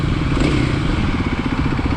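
A warmed-up motorcycle engine idles at about 1500 rpm, a steady, close, fairly loud rhythmic chugging with no one speaking.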